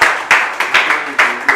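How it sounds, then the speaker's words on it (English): An audience claps in a short burst, with sharp, uneven hand claps landing in quick clusters, fairly loud and close, with no talk over them. "Please, let's applaud them."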